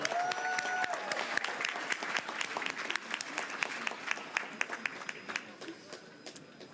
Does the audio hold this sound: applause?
yes